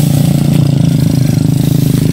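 A hauler motorcycle engine drones loudly and close in a steady, rapidly pulsing roar, held at high revs throughout with no break.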